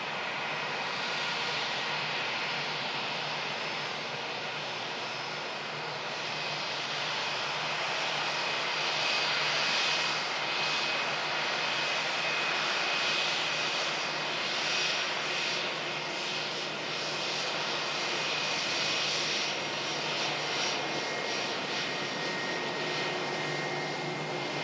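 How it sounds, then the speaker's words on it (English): An Airbus A321 airliner arriving from Helsinki produces a steady, broad jet roar that swells slightly mid-way and holds for the whole stretch, loud and continuous with no talking. "Air A321 in from Helsinki."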